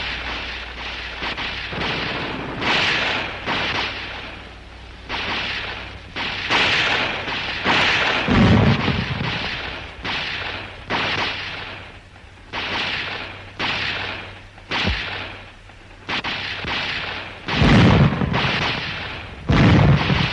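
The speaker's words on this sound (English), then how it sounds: "Some of our men move up to finish off the crew of the other with hand grenades." Hand grenade explosions during military training, thrown to finish off a tank crew: a long series of loud booming blasts and bursts, repeating every second or so with heavy low-end rumble.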